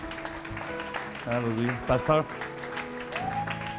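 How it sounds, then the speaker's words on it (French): A church congregation claps for Pastor Basile after a prayer at a Sunday service. The applause runs steadily through the clip, mixed with voices calling out and sustained tones of accompanying music. "On peut-tu l'applaudir?"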